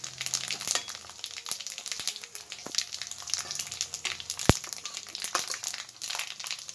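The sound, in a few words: panch phoron spices frying in oil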